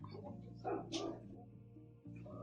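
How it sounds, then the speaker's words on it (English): Dogs bark and yip in a house at a moderate distance, a few short excited bursts over a steady low background hum. "Why are my dogs flipping the fuck out?"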